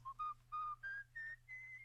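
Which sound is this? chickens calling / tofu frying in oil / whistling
whistling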